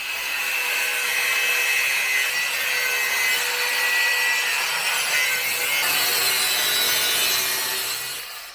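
Blade blank of 80CrV2 steel being cut out, heard as a loud, continuous rasping grind that holds steady for several seconds and then fades at the end, close and alone.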